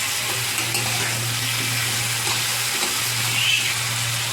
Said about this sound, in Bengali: সবজিগুলো ভাজা ভাজা হয়ে এসছে।